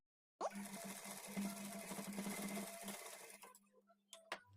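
A sewing machine stitches piping onto a blouse in one steady run of about three seconds, then winds down and stops, followed by a couple of small clicks.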